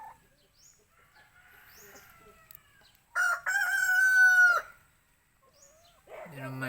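A rooster crows once, loud and close, in a long drawn-out call, with quieter clucking and faint background noise before and after.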